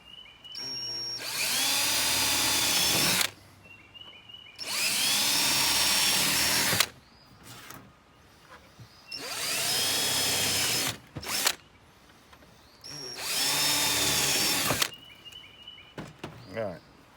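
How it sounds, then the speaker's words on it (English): A power drill whines through a 1-gallon paint can in four sustained bursts of about two to three seconds each, with quieter pauses and faint handling noise between them. "Let's go ahead and drill those holes."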